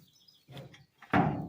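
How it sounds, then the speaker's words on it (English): Rusted old abandoned truck door being tugged at, a few short metallic creaks and scrapes followed by a louder grinding clunk, close and alone. "Ooh, this door don't open."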